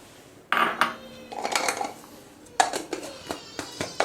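Rock sugar (khadisakhar) is crushed fine for homemade rose-petal gulkand, heard as a run of sharp, close cracks and grinding knocks in uneven bursts, with a short lull partway through.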